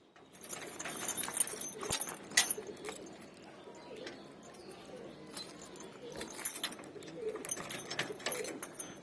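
Pigeons in a loft coo faintly amid scattered light rattles and rustling, quiet and somewhat distant, with no talking.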